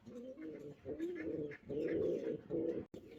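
A pair of Bar Huma fancy pigeons, a yellow hen and a cock, coo in repeated low throaty phrases close by, with brief pauses between bursts and a short gap near the end.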